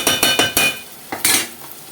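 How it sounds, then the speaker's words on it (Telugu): Egg curry is stirred in a pan with a spoon, making several close, sharp knocks and scrapes in quick succession, a brief pause, then a few more clinks, with no talk. "ఎగ్ని అక్కడి నుంచి మనం ఇలా తిప్పేసేసుకుందాము."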